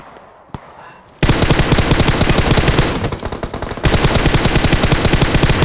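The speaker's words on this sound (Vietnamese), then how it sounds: "Chị bắn một con bot." Rapid automatic gunfire in a video game shooting at a bot, loud and sustained as dense bursts, with a brief dip in intensity midway and a quieter lead-in.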